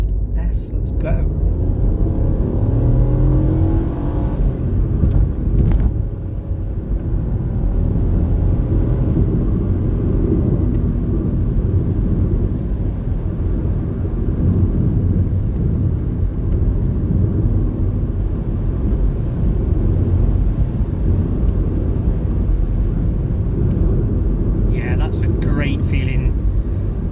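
A 2020 Mini Cooper 1.5T on open road, heard from the cabin as a steady, loud low drone of engine and road rumble throughout, with a person talking over it.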